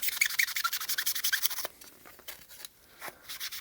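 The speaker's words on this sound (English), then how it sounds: "I'm just going to use a magic eraser sponge to try and get rid of them" Steady rapid rubbing and scrubbing of a magic eraser sponge on a Commodore 1351 mouse's plastic, a dry abrasive swishing in quick strokes, then quieter intermittent scraping; close and fairly faint.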